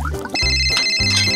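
Phone ringing in the Roblox Brookhaven game: a bright electronic ringtone with steady high tones that starts partway in and repeats in short pulses over a low musical background.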